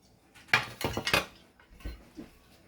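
A metal pan is picked up and set on a stove, making a short burst of clattering, clanking knocks close by, then a soft thud and quiet.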